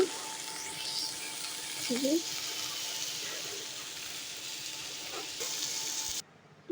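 Leafy greens (shak) fry in a pan with a soft, steady sizzle and hiss, a few faint stirring scrapes along the way, before the sound cuts off at the end.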